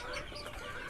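KUB chickens in an open coop cluck faintly in a brief, low murmur of barnyard sound.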